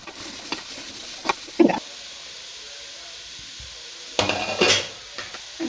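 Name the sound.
chopped carrot and beetroot added and stirred in pan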